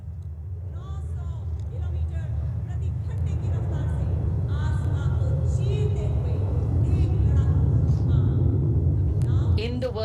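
A formation of military aircraft flies over the Republic Day parade in Delhi, heard as a continuous, heavy low rumble that fills the whole stretch while a commentator speaks over it.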